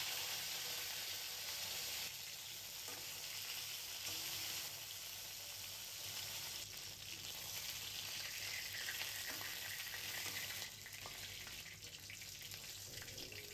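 Fish heads fry in hot oil in a home kitchen, giving a steady, dense sizzle that carries on for the whole stretch with no talking.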